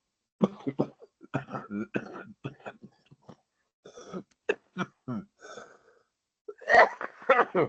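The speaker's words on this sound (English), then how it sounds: "I'm sorry for this coughing." Repeated harsh, raspy coughs and throat clearing in close succession, loud and near, with a wheezy edge.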